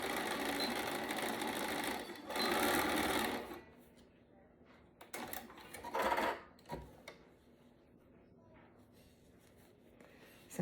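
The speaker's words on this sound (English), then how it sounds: "we're gonna stitch 1/8 of an inch from the edge" A sewing machine stitches a dress seam 1/8 inch from the edge, running in two short, fairly loud bursts separated by quiet pauses and light handling noises.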